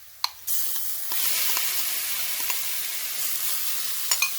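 Barbecued pork drops into a pan of sweet potato and onion hash, setting off a steady, close sizzle with a few sharp clatters and crackles along the way.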